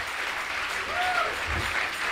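Steady applause from a church congregation fills the whole stretch, with a faint voice briefly rising through the clapping.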